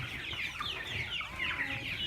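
Hen on a farm clucking softly and continuously, close by, with low murmuring chicken sounds and no talk.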